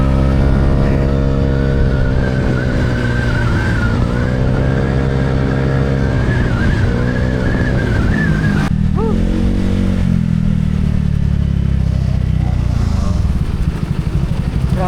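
A Honda Giorno motor scooter engine drones loudly and steadily on a night ride, its pitch rising and falling as it accelerates and shifts, with a sharp change partway through; no talking.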